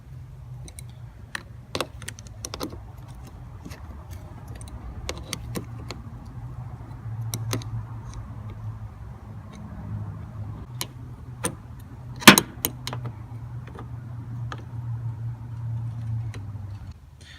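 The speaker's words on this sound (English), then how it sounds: "take, again, that number 10 or a crescent wrench, and I'm going to loosen up these two bolts right here" Sharp metallic clicks and taps from a number 10 or crescent wrench loosening two car battery hold-down bolts, irregular and close, over a steady low hum.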